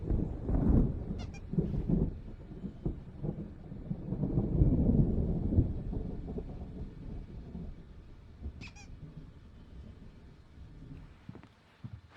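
Stormy thunder rumbles in the Alan Wake Remastered video game, a heavy low roll that swells and fades across the scene, with a few faint animal-like bleats on top.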